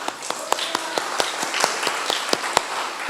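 A pastor claps alone in a steady, evenly spaced beat of about a dozen sharp claps over a few seconds, close and crisp above a faint room murmur.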